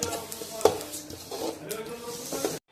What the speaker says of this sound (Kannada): ಇವನ್ನ ಕೆಂಪಂಗ ಚಟಾಪಟ ಅನ್ನುವಂಗ್ರಿ ಇವನ್ ಹುರ್ಕೋಬೇಕು ನೋಡ್ರಿ.